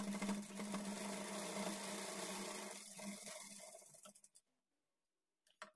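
A sewing machine runs steadily while stitching a lining blouse, a close, even mechanical whir that stops abruptly, followed by near silence and a couple of small clicks.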